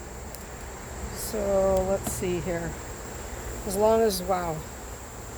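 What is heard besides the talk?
honey bees buzzing at open hive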